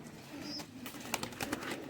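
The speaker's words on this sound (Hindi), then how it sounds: "ये दोस्तों फ़कीर गुल कबूतर हैं सब" Faqeer Gul pigeons coo softly at a distance, low gentle calls over a quiet room-tone hiss.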